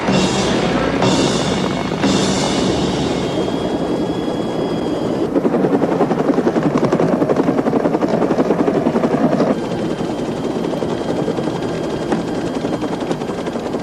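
A helicopter's rotor thrums steadily and loudly throughout, a constant chopping drone with no voices.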